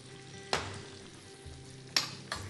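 Carrots fry in melted butter in a flat pan with a soft, quiet sizzle, punctuated by three short scraping stirs, and no one speaks.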